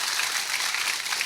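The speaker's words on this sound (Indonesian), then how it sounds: "Tepuk tangan untuk panitia, luar biasa." A crowd at a religious gathering clapping for the organizing committee, a brief burst of dense, even applause at moderate volume.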